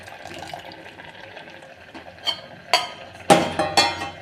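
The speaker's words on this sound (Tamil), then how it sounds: "மீதி இருக்க பாலையும் ஆட் பண்ணிக்கலாம்." Milk is poured into a pan of carrot halwa, giving a close liquid trickle and splash that grows louder toward the end, with light clinks of the pan and no talking.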